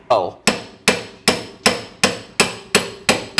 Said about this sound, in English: I'll get a really light hammer with a plastic end on the top.